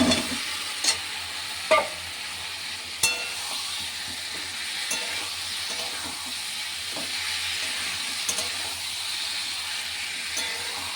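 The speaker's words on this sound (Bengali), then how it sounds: "এবার এতে আমি দিয়ে দেবো ভেজে রাখা আলুগুলো।" Fried potatoes are stirred into sizzling spiced masala for aloo dum. A steady, close hiss of frying runs throughout, broken by a few soft spoon clunks near the start, with no voices.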